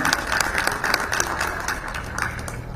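A crowd claps steadily at the Hustler Fund launch event with President William Ruto, a dense, continuous patter of applause without a clear break.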